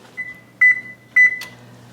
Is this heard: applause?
no